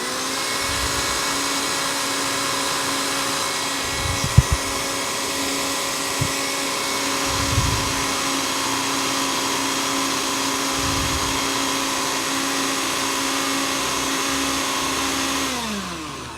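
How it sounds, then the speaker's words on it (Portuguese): A kitchen blender runs continuously with a steady, loud motor whine while mixing bread dough with olive oil, a few bumps and knocks sounding against it before the motor winds down at the end. "tampa-se o liquidificador e deixa bater por uns 2 minutos"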